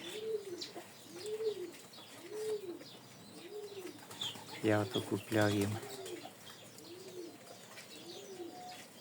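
Pigeons coo repeatedly in a slow, steady rhythm of soft, low, rounded calls, with a few chirps and a brief burst of wing flapping partway through, while a person talks nearby.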